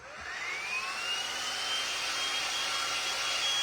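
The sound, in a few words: heat gun drying paint on a Christmas decoration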